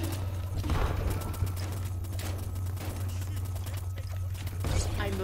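Dense, continuous gunfire from a shooter video game rattles on without a break, with overlapping bursts over a steady low rumble and a voice talking over it.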